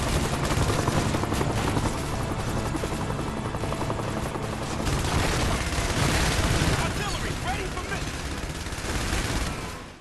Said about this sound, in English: At first, shooting bad guys from your stationary turret gun is kind of fun.